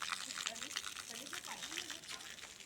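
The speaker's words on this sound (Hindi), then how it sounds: "नल भी लगे हैं, पानी बढ़िया चलत है" Water gushing steadily from taps at a temple fair at Mohdeshwar Dham, a continuous faint splashing hiss with a voice talking over it.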